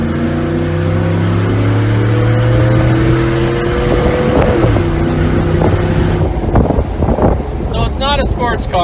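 A Ford F-150 pickup holds about 25 miles an hour, its engine droning steadily with wind noise, then the revs jump and shift as it quickly downshifts, loud and close from inside the cab.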